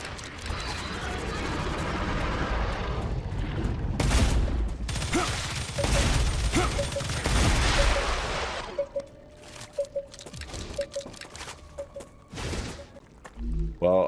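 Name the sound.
gunfire in the video game StarRupture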